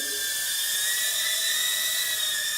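An Eachine E012 ducted-fan micro quadcopter hovers nearby with a steady, high-pitched electric whine that holds constant throughout, with no talking.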